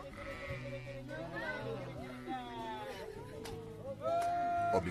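Sheep bleat repeatedly in a flock, wavering cries rising and falling over several seconds, with someone speaking at the same time and a louder, closer bleat near the end.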